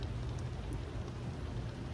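Steady rain falls continuously during outdoor scrap collecting, a dense, even hiss with a low rumble underneath and no voices.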